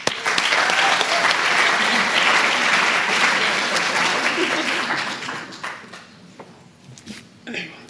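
An audience breaks into warm, sustained clapping to welcome a speaker at a capstone presentation. It stays full for several seconds, then thins out and fades to a few scattered claps.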